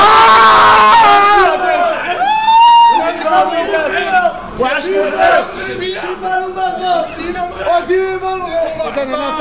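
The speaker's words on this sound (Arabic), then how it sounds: "نشوفوا الجماهير ديال مدينة الدار البيضاء تحتفل بهذا الانتصار الكبير" Football fans in Casablanca celebrate a big victory with loud, close crowd chanting and shouting. Voices rise in rhythmic cheers and whoops that keep going without a break.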